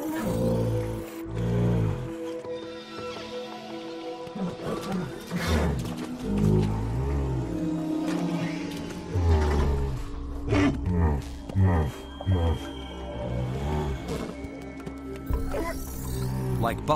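The alien creatures called Unts, a herd of buffalo-like animals, exhale through their dorsal vents in a dense, continuous mix of deep snorting roars and rasping breaths that overlap at close range.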